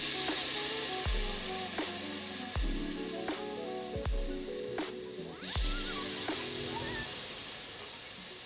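Oil and broth from a Haitian beef-foot stew (ragou pye bèf) are tipped back into the cooking pot and sizzle with a steady frying hiss. The sizzle sits under rhythmic, loud background music with deep thumping beats.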